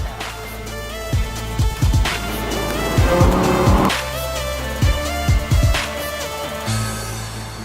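Lamborghini sports car driving, loud engine revs surging and dropping in repeated bursts with rapid gear-shift sweeps and tire noise, close and dominant with no talking.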